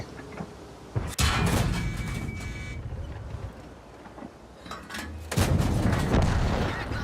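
An enemy tank's cannon in a tank battle video game fires with two heavy blasts a few seconds apart, each a loud, deep boom with rumbling decay under an engine drone, no voices.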